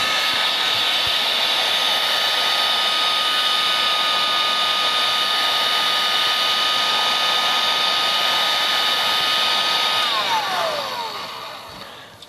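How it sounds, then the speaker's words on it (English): A heat gun blows hot air over a car engine-management circuit board ahead of desoldering, a steady loud whooshing hiss with a constant whine that holds for about ten seconds before the motor winds down and the tone falls away. "warm the area up a little bit with a heat gun before you do anything. So I'll just give that a crack now."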